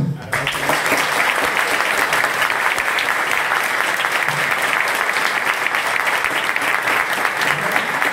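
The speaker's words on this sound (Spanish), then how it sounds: "os pido un aplauso para Paco Pastor, y para Rafa Gómez." Dense, continuous audience applause fills the room at a retro gaming event in Málaga, loud and steady throughout with a thick wash of many hands clapping and no break.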